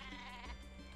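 Cartoonish sheep bleating from the super sheep in the artillery video game Worms: Clan Wars, a continuous wavering bleat running the full second, loud and alone.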